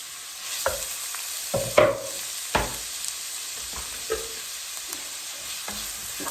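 Chopped onions and garlic sauté in hot oil in a pan, a steady soft sizzle broken by several sharp scrapes and clacks of a utensil stirring, close and with no talking.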